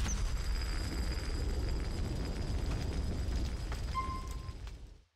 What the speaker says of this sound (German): Granate dahinter explodiert